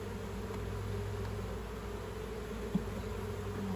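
Bees in a hive, a faint steady drone of buzzing with a low hum running underneath, continuous and close, and one brief knock partway through.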